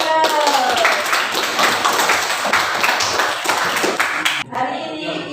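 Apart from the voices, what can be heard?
class clapping hands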